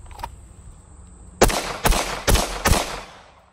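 A handgun fires four rounds at a small pie-plate target about 15 yards away outdoors, sharp loud reports spaced roughly half a second apart, each with a short tail.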